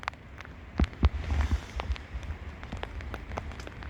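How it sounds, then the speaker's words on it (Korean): Rain falling outdoors with scattered drops pattering on nearby surfaces. The patter is irregular and fairly faint, and a few louder hits stand out. "비 다 맞고 있잖아."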